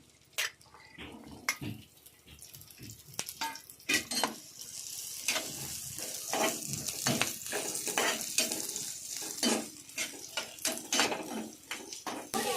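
Onions sauté in hot oil in a pan, a soft crackling sizzle broken by frequent scraping stirs and clinks of a spoon against the pan, close and fairly quiet.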